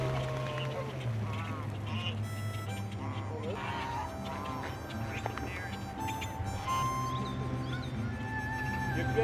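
Urban geese honk and squawk as they are herded off an island during a round-up, scattered calls overlapping under a constant low background hum with some voices mixed in.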